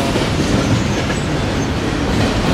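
Train rolling through a railway station, a loud, dense rumble with steady clickety-clack of wheels and no voices, continuous throughout.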